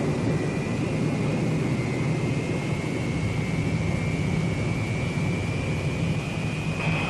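Boeing B-47 Stratojet bomber jet engines roaring steadily at takeoff power, a dense continuous rumble and hiss with a faint high whine running underneath throughout.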